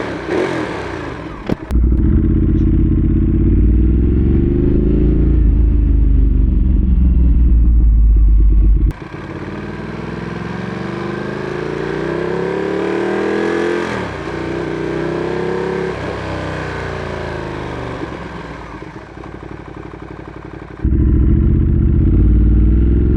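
A motorcycle engine revs up and down, a loud close rumble rising and falling in pitch over a steady idle, with no talking.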